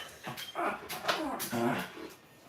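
Dogs whimper and give short yips and barks indoors, fairly close, mixed with a person's voice speaking softly nearby.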